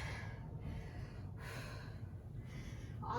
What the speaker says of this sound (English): Catching the breath.